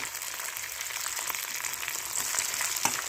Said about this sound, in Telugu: ఇవి కొంచెం వేగాలండి, నిదానంగా వేయిస్తున్నాను